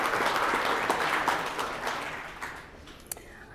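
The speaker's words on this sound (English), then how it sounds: "Let's give them all a round of applause." Audience at a credit union annual meeting giving a round of applause, dense crowd clapping that starts strong and gradually thins and fades over a few seconds, with a few isolated claps near the end.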